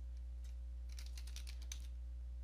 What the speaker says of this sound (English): type in regedit